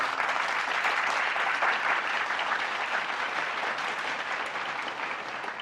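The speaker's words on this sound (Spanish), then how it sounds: "Denle un aplauso al Señor" A church congregation applauds the Lord in a dense, sustained wash of clapping that holds steady for several seconds and eases slightly toward the end, with no voices rising above it.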